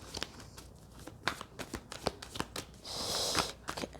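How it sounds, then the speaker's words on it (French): Tarot cards shuffled by hand in a quiet room, a run of crisp, rapid flicks and slaps followed by a longer continuous riffle near the end, close and clear with no talking. "je vais mélanger les cartes"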